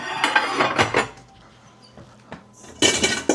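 Dishes and cutlery clink and clatter close by in short bursts while a dishwasher is loaded, with quieter knocks in between and a louder rattle of dishware at the end.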